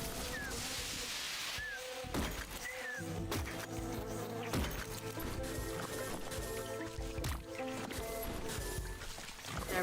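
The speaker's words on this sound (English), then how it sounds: "Now these mosquitoes should be dead." Mosquitoes buzzing in a video game, a continuous loud drone that runs the whole time over layered game music and ambience.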